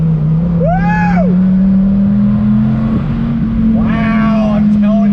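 A Dodge Viper sports car's engine drones steadily up close, its pitch slowly climbing as it accelerates, while a couple of short, high vocal whoops ring out over it.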